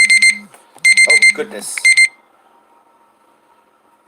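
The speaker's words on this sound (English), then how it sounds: "That was my alarm." An alarm clock rings in loud, rapid beeping bursts, stopping and restarting several times over two seconds before cutting off, with a person exclaiming briefly between the bursts.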